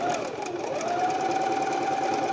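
A sewing machine with a buttonhole foot stitches a buttonhole, whirring in a fast, steady, even hum up close with a faint mechanical rattle and no speech over it.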